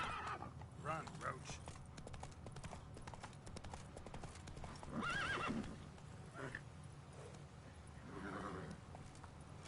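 A horse in a video game galloping with quick rhythmic hoofbeats and neighing loudly at intervals, while a player talks over it.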